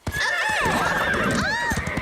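A cartoon horse gives a loud, close, drawn-out neigh with a quavering, rising and falling whinny, plus a few hoof clops underneath.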